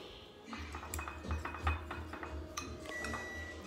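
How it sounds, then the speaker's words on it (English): Quiet clinks and taps of a spoon chopping egg in a bowl, a few irregular light strikes over low background hum. "I'm gonna start just chopping up the egg."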